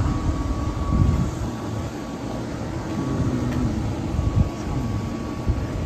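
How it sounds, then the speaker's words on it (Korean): A KTX-Eum train rumbles past at Chungju station, a steady low mechanical roar with a faint whining tone holding throughout, fairly close and unbroken, no talk over it. "KTX 이음 열차구나"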